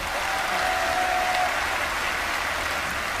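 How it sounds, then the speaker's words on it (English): A television studio audience gives a dense, steady round of applause that fills the whole few seconds without a break. "a round of applause for our snake expert, Jim Cole."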